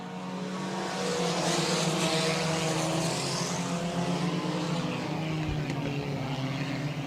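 Sport compact race cars accelerate hard at Raceway Park, a dense, loud roar of several engines with rising RPM, continuous and steady across the whole stretch.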